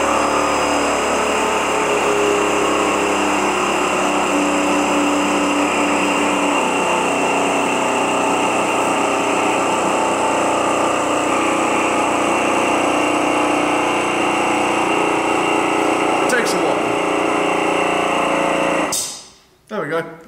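A Formula 1 car's ignition and startup systems produce a steady mechanical whir and hum that holds for about nineteen seconds, then cuts off abruptly, followed by a brief rustle.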